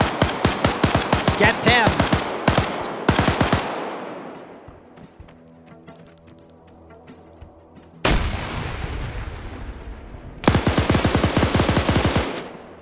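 Bursts of rapid gunfire crack out in a team-based tactical shooter match, loud volleys early, a lull with fading echoes, then renewed heavy firing, with a brief spoken remark.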